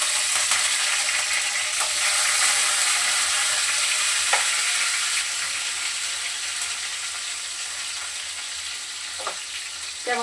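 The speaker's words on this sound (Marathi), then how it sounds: "कढीपत्ता आणि लसूण दोन्ही टाकून देते." Curry leaves and crushed garlic sizzle in hot oil with mustard seeds and cumin, a dense bright hiss that runs steadily throughout, punctuated by a few sharp pops and spatula scrapes.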